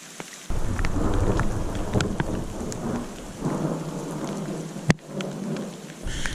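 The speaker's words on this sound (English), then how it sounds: "I'm having a great time hiking in the rain like this." Steady rain pours around a hiker on a wet trail near Hayden Lake, with a deep rumble of thunder rolling underneath and one sharp crack near the end, all heard without talking.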